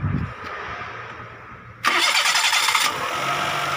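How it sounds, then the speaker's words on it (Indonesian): A turbocharged Perodua Kancil car's engine cranks and fires up abruptly partway through, settling into a loud, steady idle close by after a quiet start. "boleh tak kita nak dengar suara enjin ni macam mana?"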